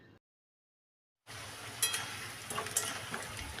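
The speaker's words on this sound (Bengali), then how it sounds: "আলুগুলো ভেজে নেব উল্টিয়ে পাল্টিয়ে।" Potatoes fry in a kadai of oil after chicken pieces, a close sizzling hiss that starts after a brief silence, with a couple of faint clinks and stirring sounds over it.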